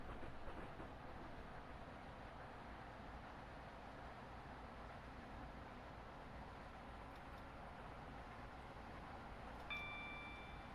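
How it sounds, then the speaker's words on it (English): A train on the East Coast Main Line near Welwyn Garden City rumbles past with a steady, continuous roar and faint rhythmic clatter, fairly close, with no voices. "Our next train is going by."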